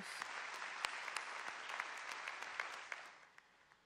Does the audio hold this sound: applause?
yes